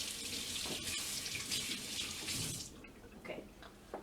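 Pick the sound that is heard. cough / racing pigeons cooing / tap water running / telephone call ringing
tap water running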